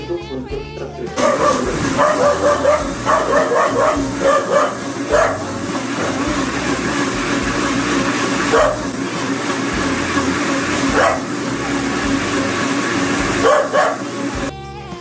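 A dog barks several times in short bursts over busy background music and noise.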